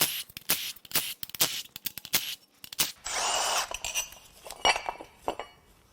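Hand tools work a bracket off a 2015 Volvo XC60 T5 2.0L engine, with sharp metallic clinks, ratchet clicks and a short burst of a small power tool in a quiet shop.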